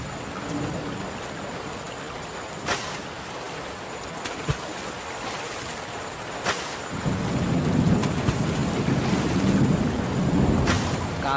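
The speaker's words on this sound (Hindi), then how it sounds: "बहुत तेज बारिश हो रही है।" Heavy rain pours steadily in a dense hiss while thunder cracks and rumbles several times, and the downpour grows louder and heavier toward the end.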